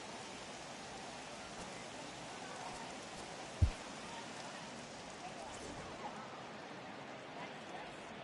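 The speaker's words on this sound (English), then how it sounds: "It looks like this rain is going to be around for a while." Soft, steady rain hiss runs throughout a rain delay at an MLB The Show baseball video game, Yankees vs Indians, with one brief low thump midway.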